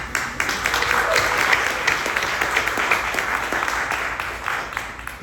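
An audience claps at an open mic poetry event with sustained, even applause from many hands, loud and steady across the whole stretch, then tapering a little at the close.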